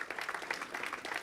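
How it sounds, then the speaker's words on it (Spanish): Brief burst of congregational applause during a Spanish-language church service, a dense patter of many hands clapping steadily throughout the short moment. "Dale un aplauso de gratitud al Señor."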